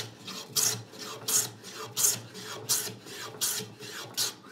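A hand plane takes shavings off the rim of a wooden workbench drawer held in a vise, sounding seven evenly spaced, close, crisp rasping strokes with short pauses between them.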